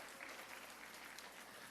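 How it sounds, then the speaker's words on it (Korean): Applause fills a church hall at a prayer-school graduation ceremony, a brief burst of steady clapping from the congregation, quiet and somewhat distant. "큰 박수로 축하해 주시고 격려해 주시기 바랍니다"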